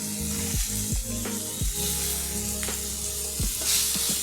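Minced chicken keema sizzles loudly in a hot pan, a constant crackling hiss broken by several sharp scraping stirs of a spatula and clinks against the pan.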